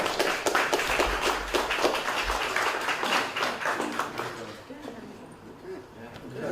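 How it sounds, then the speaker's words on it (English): Audience applause at a community meeting on red tide research, a dense patter of many hands clapping that starts strong and gradually thins and fades toward the end. "Let's give them a round of applause."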